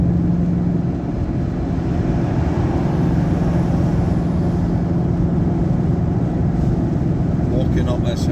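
Ford Mustang 5.0 Coyote V8 accelerating in 5th gear, a steady, loud low engine drone with road noise heard from inside the cabin, holding even throughout with no voices over it.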